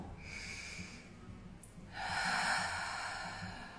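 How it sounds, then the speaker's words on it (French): Slow, deep breathing during a face yoga routine, with a soft steady exhale followed by a louder, fuller breath in the second half, close and alone without talk. "vous allez respirer lentement, profondément"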